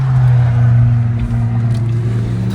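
A BMW 535 diesel with 130,000 miles accelerating on a test drive, a loud, steady low engine drone with a rising hum, heard from inside the cabin and unbroken by talk.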